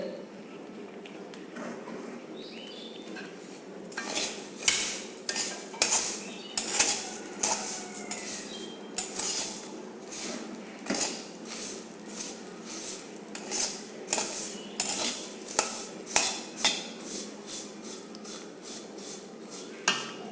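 Vermicelli frying in melted ghee while being stirred in a pan, a run of rhythmic metallic scrapes and clinks of the spoon against the pan, close and fairly quick, over a faint background hiss.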